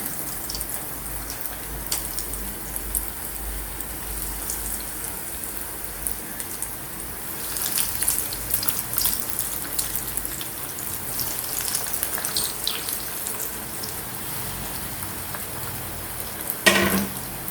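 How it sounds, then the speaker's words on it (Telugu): Aloo bonda fritters fry in hot oil, a steady close crackling sizzle running throughout with scattered brighter pops and a sharp clatter near the end. "ఇప్పుడు వీటిని ఒక్కొక్కటిగా నెమ్మదిగా వేసుకుంటూ ఫ్రై చేసుకోవాలండి."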